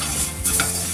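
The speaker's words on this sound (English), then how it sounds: "I'm just gonna stir all that together, turn the heat down." Pork stirred in a hot frying pan, a loud sizzle with scraping of the utensil through the meat, brief and close with no voices.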